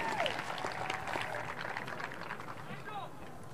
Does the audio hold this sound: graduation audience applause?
yes